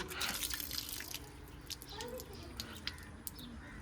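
Hands being rinsed under running water, a faint steady trickle with small splashes and drips throughout, fairly quiet with a light murmur of background activity.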